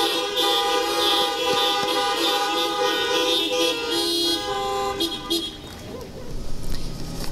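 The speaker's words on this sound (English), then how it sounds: "let us show our welcome by honking our horns" Car horns honk together at a drive-in Lutheran church service, a sustained layered chorus of toots from many parked vehicles, loud and continuous before fading near the end.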